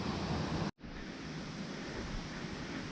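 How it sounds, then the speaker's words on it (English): The Sgwd Gwladys waterfall rushing in a steady, loud broadband roar, broken by a momentary cut-out before the continuous water noise returns. "Yeah, this is one big waterfall."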